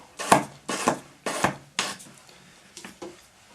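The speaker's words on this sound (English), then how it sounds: "finish it off with your sanding stick with 400 grit paper on it" Sanding stick with 400 grit paper rubbed across a wire spiral pendant, five or six short scratchy strokes in an even rhythm, close and fairly quiet, with no one talking.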